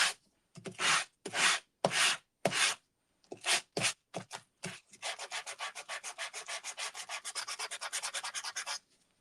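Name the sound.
sanding two-toned cardstock with a sanding block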